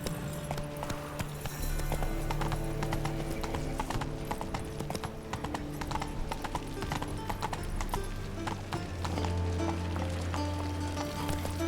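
Roach, a horse in the video game The Witcher 3, gallops with a quick, steady clip-clop of hooves, close and loud, over a soft rain-like patter with a brief whinny.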